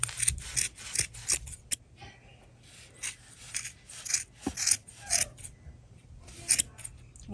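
Scissors snip repeatedly through a yarn pom pom, trimming it into a flower shape with sharp, irregular cuts and rasping shears close up, some snips in quick bursts, others spaced apart.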